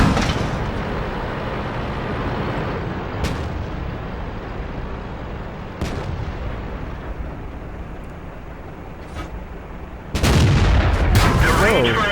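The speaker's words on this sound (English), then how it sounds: "And Ferdinand takes a shot." Ferdinand tank destroyer firing its main gun in a World War II tank game, sharp distinct cannon reports among ongoing battle rumble, ending with a louder close blast; a voice talks through it.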